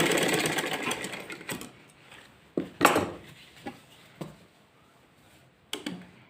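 A sewing machine stitches a four-panel salwar in a steady whirring run, then stops. Several sharp clicks and clunks of fabric handling follow, close and clear.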